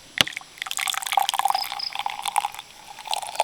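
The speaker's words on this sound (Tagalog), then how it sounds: "ang pasok po ng tubig na madumi ay galing dito, lalabas dito ay malinis na tubig." Water runs out of a household water filter unit, turning cloudy brown water clear; a steady, close trickling and splashing flow with bubbly gurgles, no talking.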